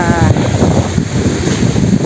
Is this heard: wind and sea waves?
yes